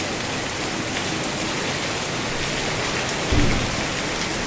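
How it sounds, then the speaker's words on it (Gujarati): Heavy rain pours down in a dense, even roar of droplets hitting surfaces, loud and unbroken, with a single dull thump near the end and no talking. "કેટલો વરસાદ આવે?"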